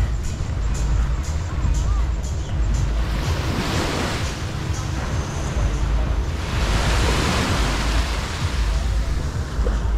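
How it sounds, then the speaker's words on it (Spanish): Gentle Caribbean sea waves wash ashore at Cancún near the lighthouse, a steady broadband surf hiss with soft swells and some wind, continuing throughout with faint background voices. "En realidad el oleaje no es mucho, está precioso."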